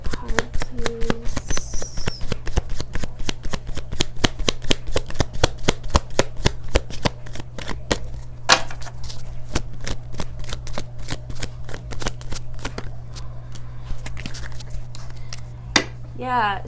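Tarot cards shuffled repeatedly in quick riffling bursts, steady crisp flicks close up over a constant low hum, with a brief voice near the start and a few sharper snaps near the end.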